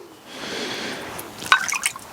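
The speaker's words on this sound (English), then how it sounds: "I'll go for a bit of water" Water is dripped onto a sharpening stone beside a Tormek T8 knife sharpener: a soft trickle builds, then a few bright, close liquid splashes and drips follow near the end, with no voices.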